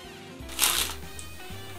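Wrapping paper on a Christmas gift package crinkles and tears in one brief, bright rustling burst, then a faint light rustle follows in a quiet room.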